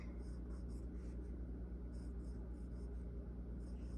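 Pencil lines being rubbed out on paper with an eraser during a holiday drawing class, heard as faint, soft rhythmic scrubbing strokes over a low steady hum.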